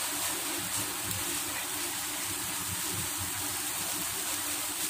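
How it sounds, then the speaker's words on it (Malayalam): Water poured into a pan while cooking mango-ginger with salt, turmeric and chilli powder, a continuous rushing gush with a low rumble underneath, steady throughout and without speech. "വെള്ളം ഒഴിച്ചു കൊടുക്കാം കേട്ടോ,"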